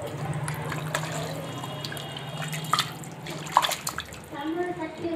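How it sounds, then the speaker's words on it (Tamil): Water splashes and trickles into a cooking pot in uneven pours while making country chicken curry, with a low hum and clinks nearby. "மிக்ஸ் பண்ணிவிட்டு இதுக்கு தேவையான அளவு தண்ணி ஊற்றிக்கோங்க."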